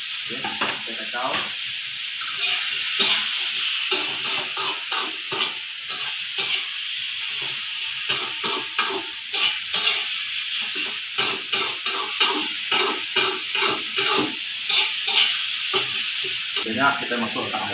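Fermented pork with onion and chili sizzles loudly in a pan while being stirred, giving a constant hiss broken by frequent scraping and clattering strokes of the utensil.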